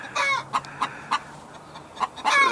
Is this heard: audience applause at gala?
no